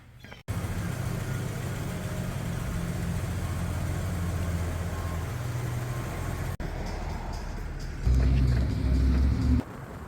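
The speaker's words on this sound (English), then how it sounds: "I gotta move the truck first." A truck engine hums low and steady while the vehicle is moved, with a constant rumble that swells louder for a moment near the end before easing back down.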